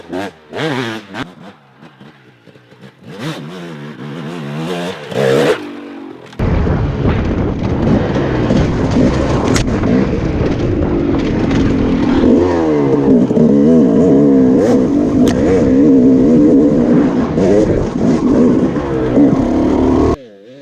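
A 2004 KTM 300 two-stroke dirt bike ridden on trails, its engine loud and close, revving and bogging in uneven bursts at first, then holding a steady, rasping drone.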